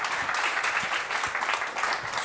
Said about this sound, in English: Big round of applause for Miles.